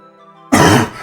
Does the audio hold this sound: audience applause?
no